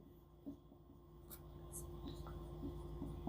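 Pen writing physics notes on paper, a faint scratchy scribbling with a few soft strokes against a low steady hum, close and quiet, no clear talk.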